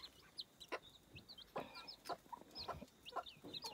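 Farmyard hens cluck and murmur softly near their chicks, with scattered high peeps from the young birds between the clucks, fairly quiet and close, with no talking.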